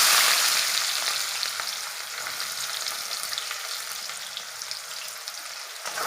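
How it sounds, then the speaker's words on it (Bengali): Onions tossed into hot oil with a little browned sugar for a meat and cauliflower curry, giving a loud, dense sizzle that swells at the start, then settles into a steady crackling fry with light stirring. "লাল হয়ে গেছে, এবার আমি পেঁয়াজগুলো দিয়ে দেব।"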